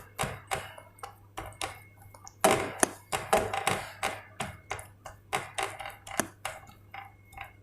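Kulcha dough flattened by hand, heard as a steady run of crisp pats and taps, roughly two or three a second, close and fairly loud with no talking.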